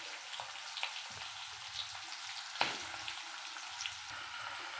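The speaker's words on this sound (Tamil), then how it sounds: "இப்போ கடுகு பொரியுது" Mustard seeds spluttering in hot oil while making Tamil mango pachadi: a steady close sizzle scattered with sharp little pops, one louder crack midway, with no voices.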